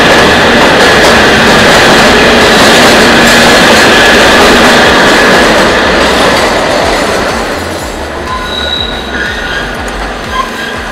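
A passenger train runs on rails in a loud, continuous rolling roar with wheel noise and faint squeals, easing slightly quieter toward the end.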